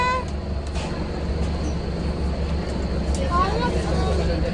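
An airport shuttle bus rolls along toward a waiting plane, its low engine rumble and cabin drone steady throughout, with passengers chatting over it.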